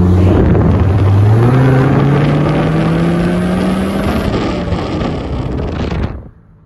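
A lowered Chevy Colorado truck engine revs loud and close, its pitch climbing steadily for several seconds through a long run before cutting off abruptly, with wind rushing over the microphone.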